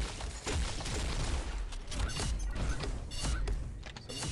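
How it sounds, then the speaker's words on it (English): Gunfire from the shooting game Pixel Gun 3D comes as quiet bursts of rapid clattering shots mixed with mechanical clicks over the game's background noise. "Somebody's shooting me somewhere"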